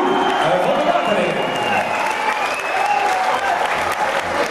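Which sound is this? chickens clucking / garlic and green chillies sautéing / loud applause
loud applause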